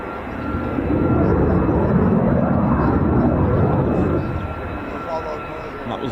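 A fighter jet, an F-15 or F-35 at RAF Lakenheath, roars past with a broad, loud rumble that swells and holds for several seconds, then fades slightly as it recedes.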